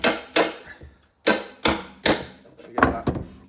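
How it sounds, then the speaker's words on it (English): Sharp metallic taps ring out as a setting tool presses a rivet into a Vickers machine gun ammunition box, about eight close, crisp hits in an uneven rhythm with brief pauses between. "We use the setting tool, that hole there, to pop that down on,"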